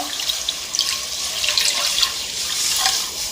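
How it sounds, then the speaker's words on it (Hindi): Water poured into a pot for boiling vermicelli, a steady splashing stream from a tap with small bright drips on top, close and without talk. "पानी शामिल करेंगे।"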